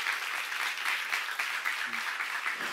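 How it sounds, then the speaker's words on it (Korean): Congregation at a Korean church seminar clapping together, a steady, fairly even crowd applause with a loose rhythmic pulse, filling the whole moment without talk. "박수를 하세요."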